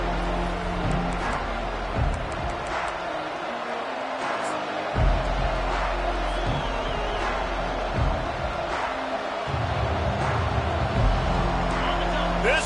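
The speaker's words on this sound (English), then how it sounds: "This crowd trying to show them what it's going to be like all day in this house" Stadium crowd roars steadily through a college football video game matchup of TCU at Utah, a dense continuous wash of fans with brief swells, running under an announcer's play-by-play.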